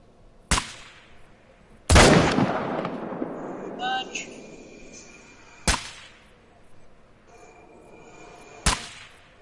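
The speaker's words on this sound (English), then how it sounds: "I'm shooting the mallard." Several sharp, echoing shotgun blasts at a lake, fired at mallard ducks, each a loud crack with a long decaying tail, spaced a few seconds apart with faint birdcalls between.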